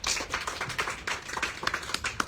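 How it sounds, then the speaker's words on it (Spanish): A small audience at a book presentation claps for a speaker, short uneven bursts of hand claps with a close, scattered rhythm over roughly two seconds. "Aplausos, por favor."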